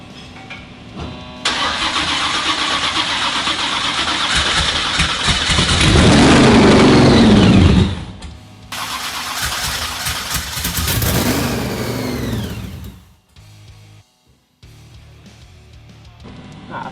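Supercharged Holden HJ engine cranks and catches, running loud and close with a hard rev climbing around the middle, settling back, then a second burst of revving before it cuts out into near quiet.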